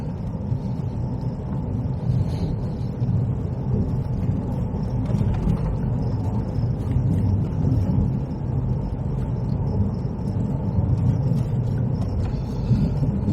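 Car driving along a country road between Wittersham and Appledore, a steady loud low engine and road rumble from inside the cabin, unbroken for the whole stretch.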